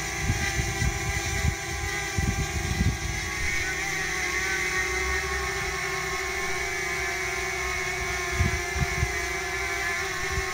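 Multirotor drone propellers spinning steadily in flight, a continuous layered hum with stacked tonal whine and small shifts in rotor speed, heard alone at moderate loudness with low rumble underneath.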